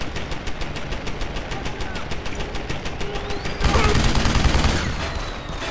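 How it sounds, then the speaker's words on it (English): Rapid automatic turret gunfire in the video game Deus Ex: Human Revolution, a loud sustained stream of shots that swells into a denser, heavier burst near the end, with no talking over it. "something else is shooting at me. What the hell is shooting? A turret of some sort."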